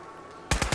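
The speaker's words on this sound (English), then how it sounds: "Kind of shooting through a fence" Rapid gunfire from Fallout 4, shot through a fence, starts abruptly halfway through as a loud burst of several close, evenly spaced shots after a low ambient hum.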